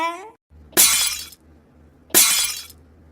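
Glass shatters twice in a cartoon, each a sharp bright crash with a short ringing tail, about a second and a half apart, after a brief bit of voice.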